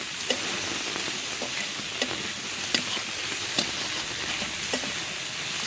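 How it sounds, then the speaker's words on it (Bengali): Tiger prawns fry in an uncovered pan with a loud, continuous crackling sizzle. Brief spatula scrapes and stirs recur about every second. "ঠিক আছে, বাগদা চিংড়িগুলো ভাজা হয়ে গেছে।"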